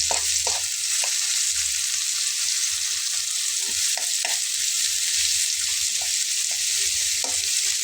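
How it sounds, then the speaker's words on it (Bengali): Chopped onions fry in oil in a pan, giving a steady loud sizzle throughout, broken by repeated soft clicks and scrapes of stirring. "পেঁয়াজটাকে একটু লাল করে ভেজে নেব"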